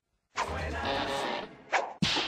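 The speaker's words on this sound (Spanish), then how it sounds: "Eso es una buena hostia, sí, señor." A sharp slap or smack sound effect, with a loud whipping crack that lingers, followed by two shorter hits in quick succession, heard alone without talk.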